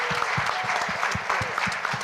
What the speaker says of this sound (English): One final round of applause for our panelists.